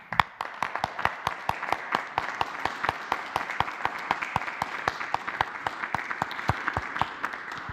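A small group claps steadily for health workers at a daily COVID-19 press briefing. The sharp, close claps run densely for the whole stretch without any talking.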